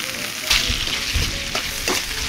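Food is stir-fried in a Chinese wok over heat outdoors in a home garden, giving a loud, continuous crackling sizzle with scraping bursts as the ingredients are tossed and stirred.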